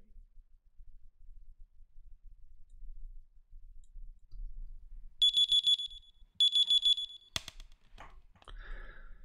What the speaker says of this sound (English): Let's have a listen to alarm clock 2